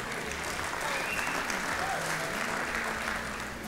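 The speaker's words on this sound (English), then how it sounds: "Round of applause for Debbie" Steady audience applause fills a room at the 2012 Tri-Citian of the Year awards event, a dense continuous patter of clapping hands held at an even level throughout, with faint crowd murmur beneath.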